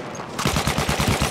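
Rapid automatic gunfire from a weapon in the Battlefield 1 multiplayer game, a steady burst of close, loud shots that starts abruptly after a brief lull and continues to the end.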